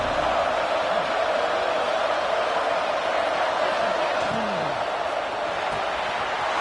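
A stadium crowd at a football game sends up a steady, dense roar of many voices that holds throughout, with a commentator's voice faintly over it.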